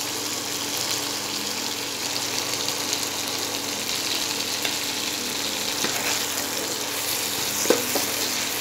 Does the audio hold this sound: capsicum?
yes